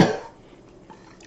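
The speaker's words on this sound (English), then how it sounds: "I have a bit of a cough today." A man coughs once, a loud, harsh burst at the start that quickly fades into quiet room tone.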